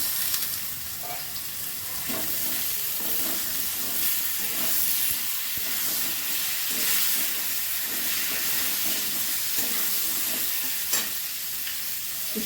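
Eggplant pieces go into a pan with already-fried potatoes seasoned with turmeric and salt. A loud, even sizzle and hiss carries on throughout, with occasional stirring knocks close by.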